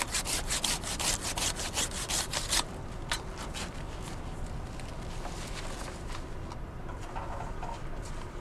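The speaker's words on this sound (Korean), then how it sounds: "겨울 농한기라 쉴 법도 한데 가지치기 작업을 합니다" Pear tree branches are pruned with a hand saw in a snowy December orchard, the saw giving a fast run of rhythmic rasping strokes before easing into quieter, softer scraping; no one speaks.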